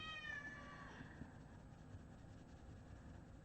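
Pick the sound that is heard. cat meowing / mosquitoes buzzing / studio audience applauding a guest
cat meowing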